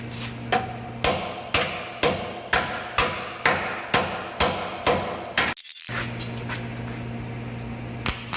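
About ten evenly spaced hammer taps ring sharply on metal joints of a Jeep TJ front axle rust repair section, then stop, leaving a steady low mechanical hum before one last knock.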